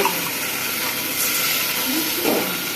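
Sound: blended spice paste added to frying onions, sizzling

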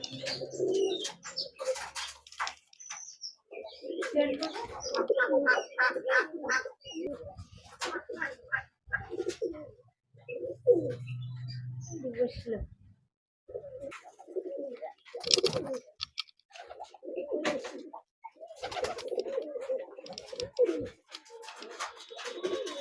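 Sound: pigeons cooing

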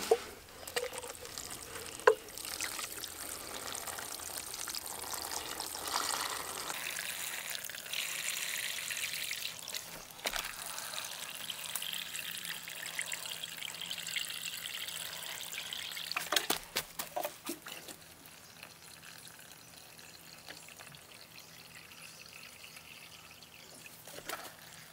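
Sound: filling a worm bin with water

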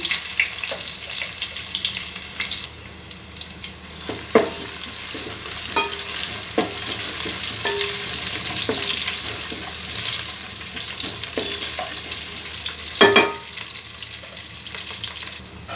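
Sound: cumin, bay leaf and chopped onion frying in oil

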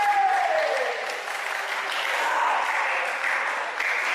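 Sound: crowd cheering at wrestling match

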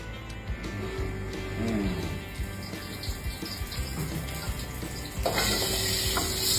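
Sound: cooking oil heating and sizzling in a wok

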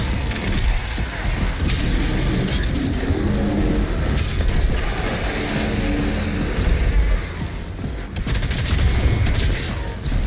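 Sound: bombs launched and exploding in the video game Doom Eternal

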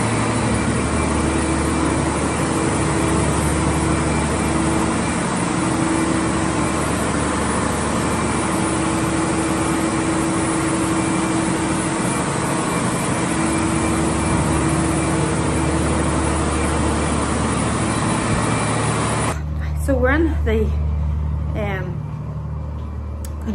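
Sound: two 250 kW engines running at anaerobic digester plant

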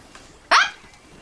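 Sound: small dog barking

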